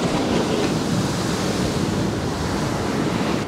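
Ocean surf at a beach in Puerto Escondido, Oaxaca, Mexico: a dense, continuous roar of breaking waves mixed with wind buffeting the microphone, loud and steady with no speech.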